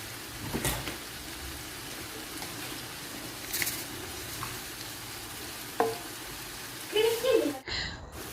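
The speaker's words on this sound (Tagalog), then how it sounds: "Mekos-mekos lang natin hanggang sa maging brown na siya." Sambosa filling frying in a pan, a soft steady sizzle with occasional scrapes and clinks as it is stirred until brown, near and fairly quiet, a voice briefly audible.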